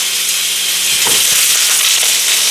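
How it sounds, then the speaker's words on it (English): Beef steak pieces hitting a hot pan for garlic butter beef bites, a loud, dense, continuous sizzle close to the listener, with no voices. "I'm going to go ahead and throw in some of these steak pieces"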